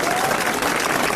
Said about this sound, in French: notre ami Philippe Castelli que je vous demande d'applaudir